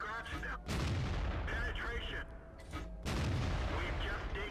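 Heavy tank cannon fire and battle noise in World of Tanks, deep booming blasts over a dense rumbling backdrop, loud and sustained with short dips between, while a voice talks underneath.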